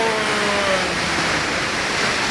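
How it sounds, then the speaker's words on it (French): A waterfall roars in a broad, steady rush of water, loud and continuous throughout with no pauses. "une cascade. Voilà. C'est très joli à voir."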